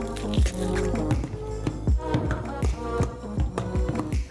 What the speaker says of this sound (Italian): Le mandiamo in una ciotola e le trasformiamo in purea.